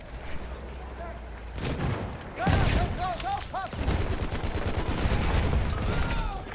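Battlefield 1 gunfire rattles in rapid bursts with booming shots, a voice talks over the shooting, and electronic chirps sound in between.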